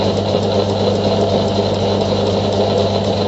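Revolving tap cutting a thread on a bolt gives a steady mechanical whir with a faint ratcheting texture, continuous and close, with no voices.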